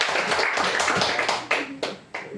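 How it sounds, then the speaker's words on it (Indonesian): Audience members clap after a classroom presentation. The clapping is faint and scattered, with a few sharper, louder claps near the end, and no voices can be heard. "Kita tepuk tangan untuk kita semua."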